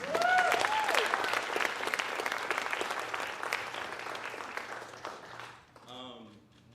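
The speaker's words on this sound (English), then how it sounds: "Please give your president a round of applause as well" A crowd claps for a president at a spoken word event, loud at first and slowly thinning out, with a faint background tone and a short burst of voices at the end.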